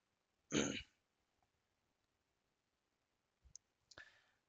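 Faint, sharp mouse clicks land near the end of an otherwise quiet stretch at a computer, preceded by a soft breathy sound early on.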